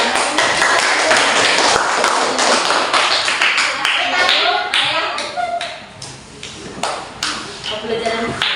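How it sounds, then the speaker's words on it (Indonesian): A classroom of students clapping hands together after a lesson, dense and continuous for several seconds with scattered sharp taps, fairly loud and close, with some voices mixed in. "Oke, kita tepuk tangan."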